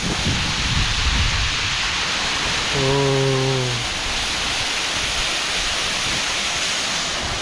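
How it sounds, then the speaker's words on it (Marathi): A waterfall roars in a dense, steady rush of falling water, loud and continuous, with a brief low tone sounding briefly in the middle. "आता मी एका धबधब्यापाशी आले हे बघा काय जोरात पाणी पडते"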